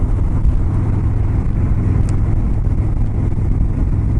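Steady engine drone and wind rush from a 2018 Harley-Davidson Road King cruising on a sunny road at 65 mph, a constant low rumble without pauses and no talking.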